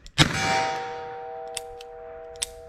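A .45 Colt revolver round striking a steel silhouette target, giving one loud sharp metallic clang that rings on with a sustained tone for over two seconds, with a couple of faint distant ticks afterward.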